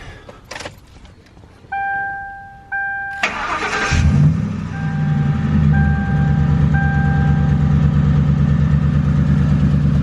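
A 2004 Ford Crown Victoria V8 with a cat delete and single-chamber Flowmaster exhaust is started from inside the cabin: door chimes ring first, then the starter cranks briefly and the engine catches into a loud, deep, steady idle.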